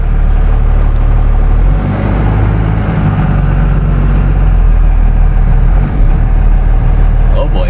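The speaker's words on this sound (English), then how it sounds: "It's a loud Cummins." A loud Cummins diesel engine idles in a truck, a heavy steady rumble close by with a slight dip in its drone midway.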